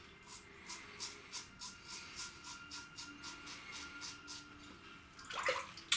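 Cold steel razor scraping through stubble in an outdoor cold water shave, about a dozen short rhythmic strokes in a row, close and fairly quiet, ending with a brief splash of water.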